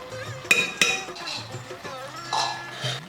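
A utensil scrapes and clinks against a metal pot of thickening kaalan curry in a few irregular strokes, with quiet kitchen sounds between.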